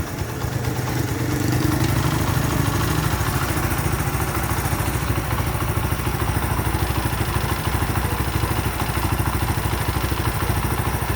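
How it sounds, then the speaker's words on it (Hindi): A 70cc motorcycle engine being tuned starts up and runs with a steady, clattery single-cylinder putter close by, holding an even idle with slight swells in revs. "बाइक की रेस स्टार्ट करते हुए"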